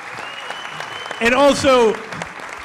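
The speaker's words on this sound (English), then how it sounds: "can we have a big round of applause for these guys for coming down here tonight?" A short burst of audience applause and cheers rises and fades within about a second, while someone speaks to the crowd.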